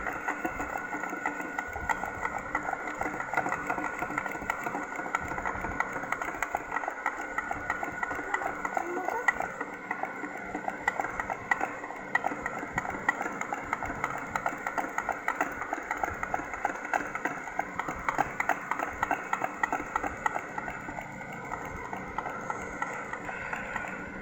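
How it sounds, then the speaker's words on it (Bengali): Electric blender running steadily, churning packet milk into butter; a continuous motor whir holds at an even level throughout without a break, close and alone. "টানা এটাকে পনেরো মিনিট ব্লেন্ড করতে হবে"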